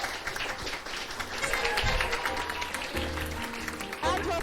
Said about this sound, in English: please give a warm round of applause for Lesley Whisper